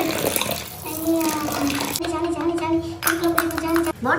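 Water runs steadily from a tap into a doll's bath, a continuous splashing flow that lasts the whole time, with a voice and tonal music layered over it.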